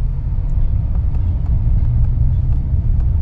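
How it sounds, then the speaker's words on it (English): A 2020 Hyundai Creta with a DCT gearbox accelerates with paddle-shifted upshifts, giving a steady, loud, low engine and road rumble heard close up from inside the car. "I will be using the paddle shifters to just show you how quickly can we upshift"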